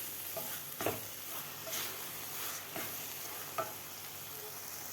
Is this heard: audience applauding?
no